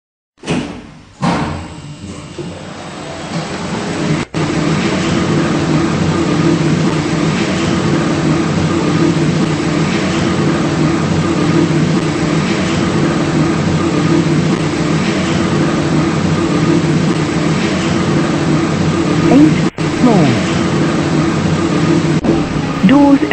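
A Luxiar lift with Thames Valley controls in Roblox hums steadily upward for about twenty seconds, a continuous motor drone after an opening thump. Faint clicks occur along the way.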